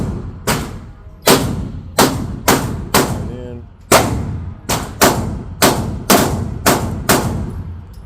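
An Apollo 11 compact 1911 pistol fires about a dozen loud, sharp gunshots in an uneven sequence, each crack ringing out close by and trailing off before the next.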